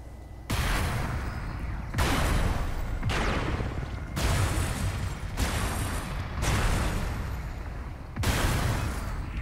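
Weapons fire in bursts in the Robocraft video game, each volley a dense roaring barrage lasting about a second and a half, separated by brief drops, repeating several times at close, loud range.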